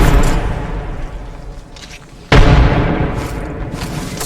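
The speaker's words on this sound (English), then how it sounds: "Tossing a grenade." Grenade blast in the battle royale game Apex Legends, a sudden loud boom that cuts in midway over a rumbling game soundscape and then decays slowly.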